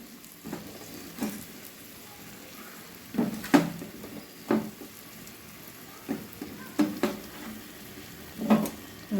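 Small mourola fish go into simmering broth for a batichochhori, with soft bubbling under repeated bursts of sizzling and stirring scrapes in the pan.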